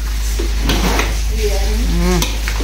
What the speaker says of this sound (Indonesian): ini lagi ngudak-ngudak bihun